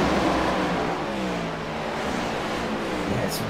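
Race cars with roughly 700-horsepower engines roar around the flat Pocono oval in close door-to-door racing, a loud continuous engine drone with a passing whine near the end, under commentator talk.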